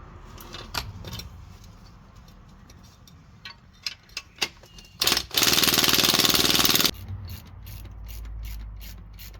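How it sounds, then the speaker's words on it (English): Spring compressors are fitted to the front suspension spring of a MK5 VW Polo. Metallic clicks and ratcheting come first, then a loud, sustained mechanical burst lasting over a second, followed by softer rattling. "So just putting the spring compressors on now to get that off."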